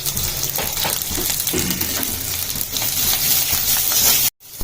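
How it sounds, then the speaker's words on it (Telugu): Cumin and mustard seeds crackle and sizzle in hot oil, a dense, loud, continuous spattering that cuts off briefly near the end. "ఫస్ట్ అయితే కొంచెం ఆయిల్ పెట్టేసుకొని జీలకర్ర ఆవాలు వేసేసుకుని ఇట్లా చాలా సౌండ్"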